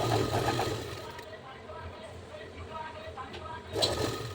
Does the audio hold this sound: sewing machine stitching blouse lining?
yes